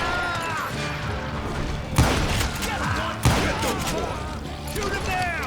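Gunfire in the Western game Call of Juarez Gunslinger crackles among busy action sounds, with two sharp, heavier shots standing out.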